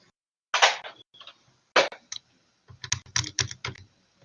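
Computer keyboard typing while entering answers into the MyMathLab graphing tool, heard as a few short bursts of clicky keystrokes separated by pauses, with a faster cluster of taps toward the end.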